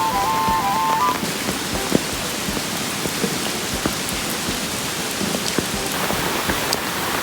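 Floodwater rushes through a small creek on a farm in a steady, loud broadband wash, continuous for the whole stretch with no voices over it.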